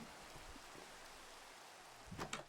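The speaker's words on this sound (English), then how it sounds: "Now it's raining." Rain falls in the Minecraft video game as a soft, steady hiss of broadband noise, faint and continuous, with a couple of brief louder crackles near the end and no talking.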